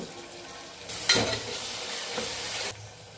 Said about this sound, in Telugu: టమాటా వేగిన తర్వాత కొత్తిమీర పుదీనా వేసుకొని పుదీనా కొత్తిమీర కూడా కొంచెం ఫ్రై కావాలి